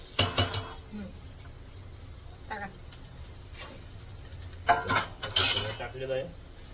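Onion, cabbage and capsicum stirred in a pan, with bursts of metal utensil scraping and clinking against cookware, quiet gaps between strokes and faint voices in the background.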